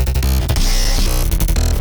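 Four different synth bass patches play in a dense, loud stretch of music, heavy low-end notes shifting in tone over busy beats, with no talking.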